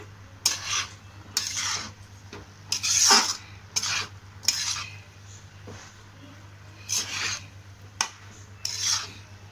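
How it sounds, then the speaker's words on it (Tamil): Chicken fried rice ingredients stirred and mixed in a pan, giving a series of rasping, scraping strokes at an irregular rhythm, close and moderately loud over a steady low hum. "இப்போ நல்லா மிக்ஸ் பண்ணும்."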